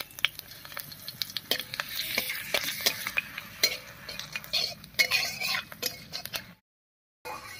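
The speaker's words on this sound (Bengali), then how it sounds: "তেল গরম হয়ে গেছে, তেলের মধ্যে দেব 1 চামচ 5 ফোড়ন, আর দিয়ে দিচ্ছি 2টো শুকনো লঙ্কা" A spoonful of five-spice tempering and two dried red chillies fry in hot mustard oil in a kadai for raw mango pickle, giving a close crackling sizzle with frequent spoon stirs and clinks, then a brief silence before it resumes.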